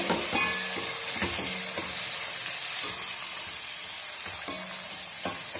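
Tomatoes, onions and green chillies fry in a pan for a vegetable paneer chapati roll, a steady close sizzle punctuated by repeated sharp scrapes of a spatula stirring.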